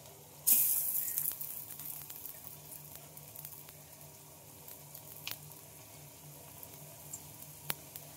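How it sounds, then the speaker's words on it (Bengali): Neem leaf pakoras sizzle in hot oil, with a sharp hiss flaring as they drop in and then settling into a softer, steady bubbling crackle with occasional faint clinks. "তো চলো এইভাবে আমি বেশ কয়েকটা একসঙ্গে ভেজে নেব।"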